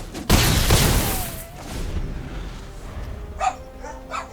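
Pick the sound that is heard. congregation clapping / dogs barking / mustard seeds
dogs barking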